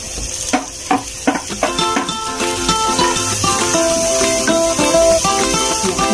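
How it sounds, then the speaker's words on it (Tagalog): Chopped onion stirred around a hot pan for spicy creamy zucchini carbonara, with steady sizzling and a run of scraping, stirring strokes near at hand, loudest in the first two seconds. "Mix na natin yung ating onion."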